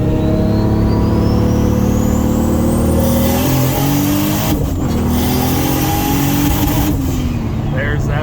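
A Toyota Supra engine revs while brake boosting, loud and close, with rising whine and turbo-like tones and a couple of brief drops, while people talk over it.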